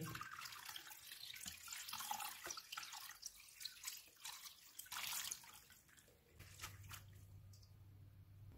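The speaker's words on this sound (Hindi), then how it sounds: "इसके ऊपर ठंडा पानी डालेंगे।" Cold tap water running and splashing over freshly boiled, drained pasta in a kitchen sink, a steady gushing stream with some dripping and squishing, fading near the end under a low hum.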